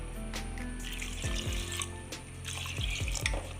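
Water poured from a tap or vessel onto chopped yam pieces in a cooking pot, giving a steady close splashing stream with a few louder gurgles and drips, with no voices.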